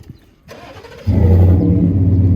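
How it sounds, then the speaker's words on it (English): A pickup truck's 5.0 liter engine with an aftermarket exhaust cranks briefly, then catches and settles into a loud, deep burbling idle close by. "Let's start them up and see how they sound. All right, we'll do my truck first."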